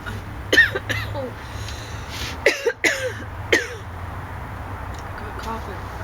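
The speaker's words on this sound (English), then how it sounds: "I got coughing." Someone coughs in a short cluster of harsh, close bursts, a couple of lone coughs at first and then several in quick succession, with a quiet room behind.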